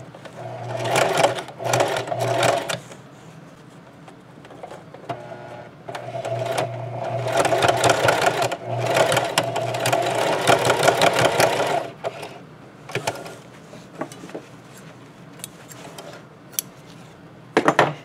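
A sewing machine back-tacks a tote bag seam in several short bursts of close, rattling stitching separated by pauses, with a longer run in the middle.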